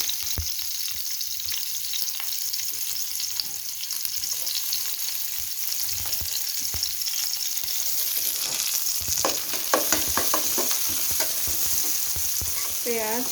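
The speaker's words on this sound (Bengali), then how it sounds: "পেঁয়াজটাকে আমি বেশি ভাজবো না।" Onions frying in oil for a Bengali flat bean curry: a steady bright sizzle with frequent spatula scrapes and stirring clicks that grow busier toward the end, no talk.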